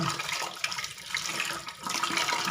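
Water running into a kitchen sink while vegetables are washed, a steady close splashing rush of moderate loudness, with no talk over it.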